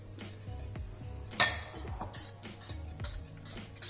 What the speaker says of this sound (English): Who knew stirring would be tiring?